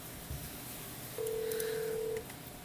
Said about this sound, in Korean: 바로 전화해보겠습니다